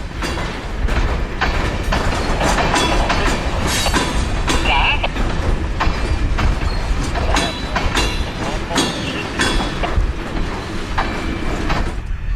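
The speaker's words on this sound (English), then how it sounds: "This is a block of rock hoppers, center beam flat, empty tanks, and a couple of covered hoppers." A long freight train out of Tampa rolls past with a block of rock hoppers, a center beam flat, empty tank cars and a couple of covered hoppers. It makes a loud, steady rumble with rhythmic wheel clacks throughout.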